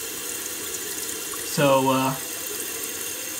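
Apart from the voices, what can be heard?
water pouring into toilet tank through faulty fill valve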